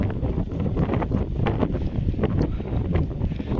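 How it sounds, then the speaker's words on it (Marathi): Strong gusting wind roars and buffets the microphone on a steep, foggy rock-cut climb up Mohangad fort during a night trek, a loud, constant low rumble with no voices. "सोसाट्याचा वारा उभाजड लागलाय"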